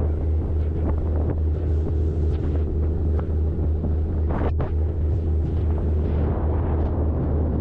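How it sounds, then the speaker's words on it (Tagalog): Strong wind buffets an outdoor microphone as a steady, loud low roar with gusty rises, and no voice is heard over it. "Pasensya na ho, lakas ng hangin."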